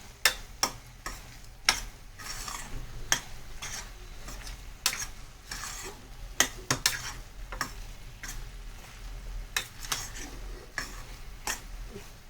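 Chicken mince for samosa stuffing fries softly in a pan while a spoon breaks up the lumps, giving repeated sharp taps and scrapes against the pan over a faint sizzle.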